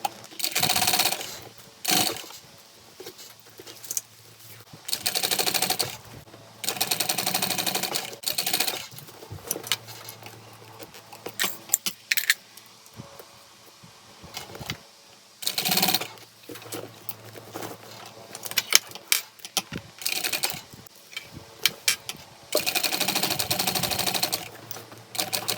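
Sewing machine topstitching a convertible tote bag, running in bursts of rapid, even stitching lasting a few seconds each, separated by short pauses and faint handling noises.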